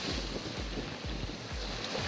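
Ocean waves wash over a pair of Soundcore A20i Bluetooth earphones held at the shoreline, a steady broadband surf wash with low rolling surges recurring about every half second, close and continuous, with no voices.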